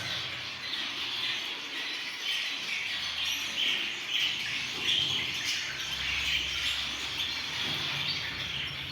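Young society finches, also called Japanese sparrows, chirp continuously in an aviary of exotic birds, a dense, bright twittering of many small birds at close range without pause.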